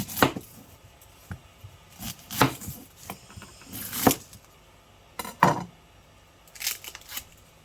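A knife slices a small onion thinly on a cutting board, giving a string of distinct, close chopping taps at an irregular rhythm, with quiet pauses between cuts and no talking.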